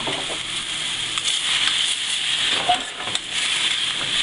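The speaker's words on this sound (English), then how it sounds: "Now we're going to take our freshly shucked oysters, put that in the pan." Freshly shucked oysters sizzling in a hot liquid-filled pan, a steady bright hiss with occasional soft pops and stirring sounds, moderately loud and close, with no voices.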